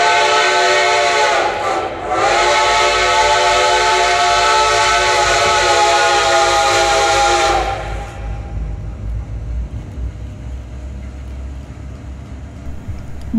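A steam whistle from Reading and Northern steam locomotive 2102, built by Baldwin in 1925, blows long and loud for several seconds, briefly dipping, then cuts off, leaving a low rumble of the train arriving at Pittston Yard.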